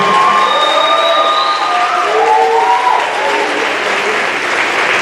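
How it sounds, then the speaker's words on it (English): Loud, sustained applause from a crowd at an athletics awards ceremony, mixed with some cheering and a few high whistles, continuing at full volume. "give them a round of applause as well"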